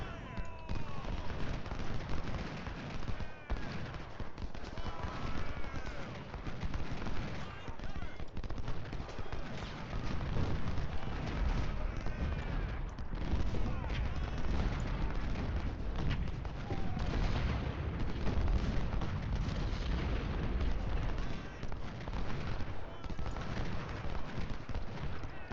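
Continuous battlefield din from Ultimate General: Civil War, dense rolling artillery and musket fire layered under a steady roar, with a voice talking faintly over the top throughout.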